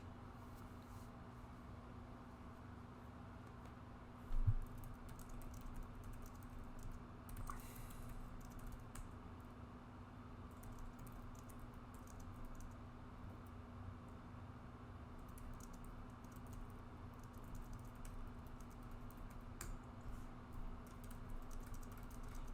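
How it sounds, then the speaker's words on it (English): Faint, quiet typing on a computer keyboard during a Transformers trading card game tournament match, soft scattered clicks over a steady low electrical hum with one louder knock. "I just was typing something for Bill there."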